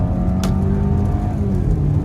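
A Subaru Impreza 2.5i with a manual transmission that won't shift revs hard at full throttle while stranded, a loud, steady, close engine drone holding for about two seconds with no talk.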